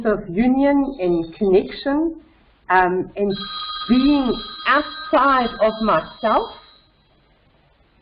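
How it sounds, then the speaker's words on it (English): A phone's ringtone sounds during a recorded interview, thin steady high-pitched ringing layered under someone talking close up. "sorry about my phone."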